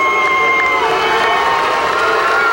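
A large crowd at a high school regional wrestling final in the 135-pound bout reacts with loud, sustained booing and jeering that fills the gym.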